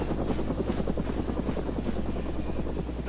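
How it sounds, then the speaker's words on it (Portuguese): Bugged, glitching helicopter rotor in ArmA 3, a steady loud rhythmic chopping hum that holds without break, with no voices over it. "esse helicóptero aí tá bugado, a hélice dele"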